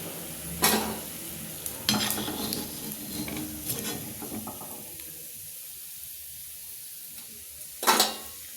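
Avalakki sandige, a flattened-rice fritter, fries in a little oil, with a soft steady sizzle broken by a few sharp stirring scrapes against the pan, then quieter frying near the end.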